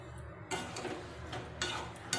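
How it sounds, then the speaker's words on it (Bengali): Jackfruit curry being stirred and sautéed in a pan with splashes of water, a low steady sizzle with soft scraping bursts of a spatula at intervals, close and without talk. "আর ভালো করে নেড়ে চেড়ে কষিয়ে নিচ্ছি"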